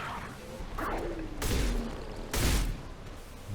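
Two loud shotgun blasts in the video game Mass Effect 2, spaced about a second apart, each a sharp broadband burst with a booming low end, amid quieter in-game ambience.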